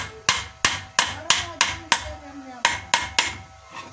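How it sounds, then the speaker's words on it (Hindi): A hammer taps a bearing into place on a water pump motor, delivering about ten sharp, evenly spaced metallic strikes close to the microphone, with brief ringing after each blow. "ये अब हमने ये मुड्डी की मदद से या हथौड़े की मदद से"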